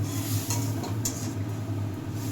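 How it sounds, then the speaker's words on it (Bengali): Stirring a Bengali spice mixture for a pointed gourd dish in a pan, with soft metal scraping and clinks of a utensil against the pan over a faint, steady low hum, no speech. "এবার ভালো করে নাড়িয়ে নাড়িয়ে আমরা মশলাটাকে কষাবো।"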